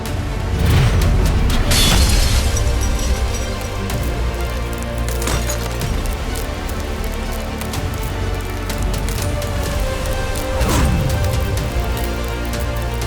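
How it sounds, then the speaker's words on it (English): A 12 gauge shotgun fires military buckshot into car glass, about three loud blasts spread several seconds apart, each with a crashing, splintering burst over a constant background noise. "We're at a 12 gauge shotgun with military buckshot."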